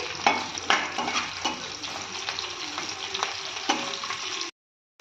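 Onions and green chillies frying in a pan for capsicum fry, a loud steady sizzle broken by several sharp stirring scrapes, then cutting off abruptly near the end.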